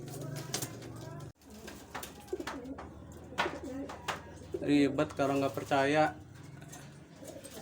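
Young long-distance homing pigeons coo in several bursts, the later ones loud and close, mixed with a person talking nearby.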